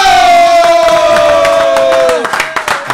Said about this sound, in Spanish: Un fuerte aplauso a Pirulo